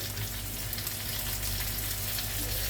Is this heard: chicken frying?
yes